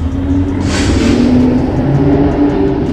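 Cars launching off the line at a Gumball rally event, a loud engine roar with a sharp burst of noise early on, then a sustained drone as a car pulls away nearby.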